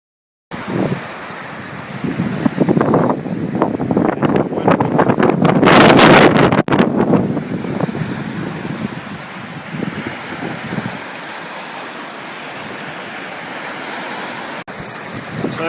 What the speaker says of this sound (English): So this morning we've got 1 metre swells and wind.